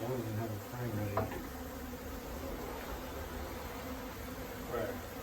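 Honey bees buzz steadily during a hive removal from a church, a dense continuous drone close by, with faint voices talking underneath.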